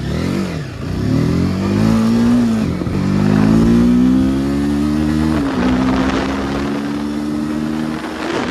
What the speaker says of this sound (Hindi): ये देख सकते हो आप एग्जॉस्ट RPM मीटर पे आप देखो, ये पहला गियर पे लगाया गाइस, और देखो इनिशियल इसका।